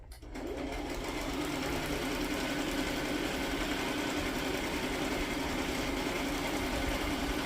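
A sewing machine runs a straight stitch with a fast, continuous mechanical whir, steady and close throughout after a brief start.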